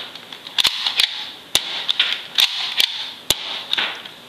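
Buzz Bee Jaguar toy dart blaster fired repeatedly, giving sharp, close snapping pops at irregular intervals, roughly eight or nine shots, with a faint mechanical rattle between them and no talking.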